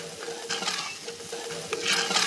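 Small amount of pistata caramelizes in a wide, hot pot still holding meat residue, giving a steady soft sizzle broken by repeated scraping stirs.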